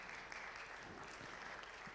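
Faint applause from a conference audience, a soft, even patter of many hands clapping at a distance for a couple of seconds.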